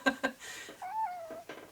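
A kitten gives a short, rising-and-falling meow in a quiet office, framed by a woman's nearby speech just before and after it.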